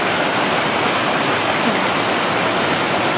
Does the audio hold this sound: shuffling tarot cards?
no